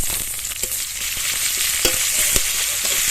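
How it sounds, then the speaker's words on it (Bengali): Chopped onion frying in mustard oil with dried red chilli and whole cumin, a loud, dense, continuous sizzle close by with a few brief spoon knocks against the pan. "পেঁয়াজটা হালকা একটু ভেজে নিয়েছি।"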